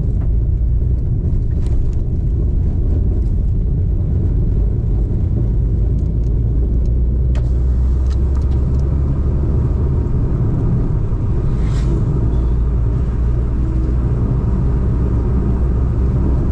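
A car's low engine rumble and road noise fill the whole stretch, steady and close, with occasional bumps and thuds from a potholed road.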